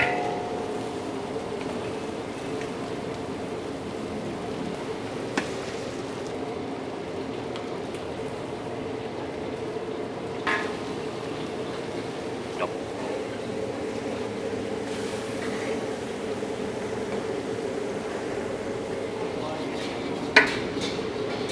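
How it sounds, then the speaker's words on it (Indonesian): Chicken breast fillet, sixteen kilos of it, stir-fries with onions in a large pan for chicken curry rice, a continuous crackling sizzle like rain with occasional metal spatula clinks against the pan and a voice speaking at times. "kita udah boleh masukin dada ayamnya untuk kita tumis-tumis"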